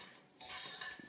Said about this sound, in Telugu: కొంచెం సాల్ట్ వేసుకొని ప్రాపర్గా మిక్స్ చేసుకోవాలి.